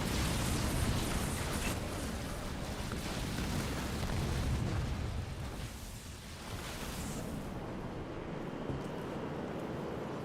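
Production buildings are destroyed in the strategy video game Halo Wars 2, a continuous loud roar of explosions and booming rumble that runs for about ten seconds, dipping briefly before carrying on, with no voices.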